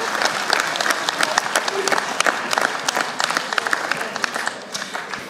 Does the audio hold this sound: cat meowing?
no